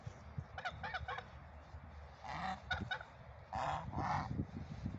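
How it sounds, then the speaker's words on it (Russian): Several geese honk nearby in short bursts, some calls overlapping, with quieter gaps and a soft background rustle between them. "Не кричите, пожалуйста, гуси"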